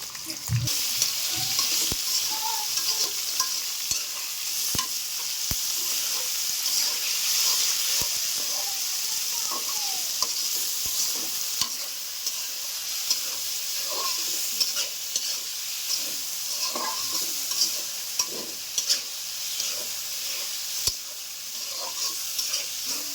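Minced chicken frying in a pan with browned garlic for restaurant-style chicken fried rice, a constant close sizzle broken by repeated scraping stirs and sharp utensil taps, no voices.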